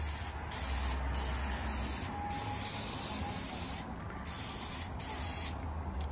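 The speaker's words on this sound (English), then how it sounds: "I'm gonna coat it with a little spray oil." Spray oil hisses onto a hot Blackstone flat-top griddle, a steady close aerosol spray broken into several bursts over about six seconds, with no talking.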